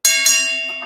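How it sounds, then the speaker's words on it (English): A single struck bell, an Ali bell used as a super chat alert, rings with a sharp attack. A second strike quickly follows, and the bright metallic tone sustains and slowly decays, loud and alone. "we just gonna hit the Ali bell"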